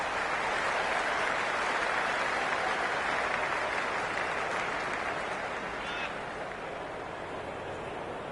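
A stadium crowd in the video game Cricket 26 applauds a boundary in a T10 match, a steady dense roar of clapping that holds loud for several seconds and eases slightly toward the end.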